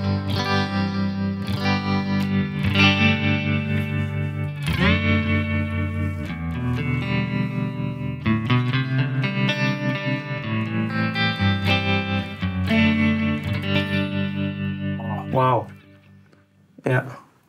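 An electric guitar rings out through a digital delay pedal and reverb, sustained chords and notes washing into echoing repeats before fading to a quiet tail.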